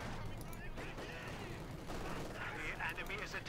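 Light machine gun fire in Company of Heroes 2, a continuous crackle of battlefield gunfire mixed with clanking mechanisms and other combat noise, with a commentator talking over it.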